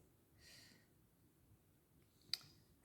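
A single sharp computer mouse click, close and fairly loud, stands out amid quiet room hiss with a faint breathy sound earlier and another click-like onset at the very end.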